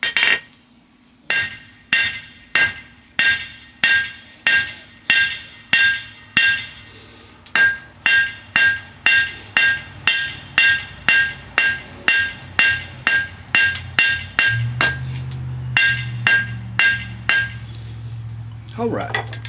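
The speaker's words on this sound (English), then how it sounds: "I could have used a smaller hammer." Steady hammer blows striking metal, a long even run of sharp ringing clanks at a regular pace, close and loud with no talking.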